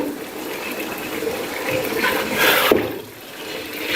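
About half a kilo of yogurt pours into a karahi of frying chicken and spices. A soft gushing, wet rush builds and peaks, then drops away abruptly to a quieter sizzle.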